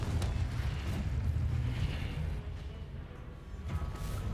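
Spell explosions and blasts from a wizard duel in Hogwarts Legacy, a dense rumbling boom that rolls on loud and continuous before fading slightly, with no voices over it.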